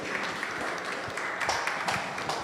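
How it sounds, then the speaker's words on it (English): An audience at a senior high school science and technology innovation challenge gives a school team a brief, moderate round of applause with some voices mixed in. "Give them a round of applause."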